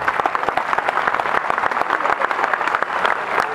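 A concert audience applauds the musicians with dense, steady clapping that stays loud and even for the whole stretch.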